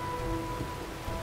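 Steady rain falling outdoors in a Squid Game scene, a continuous soft hiss of drops on surfaces, fairly quiet and even throughout.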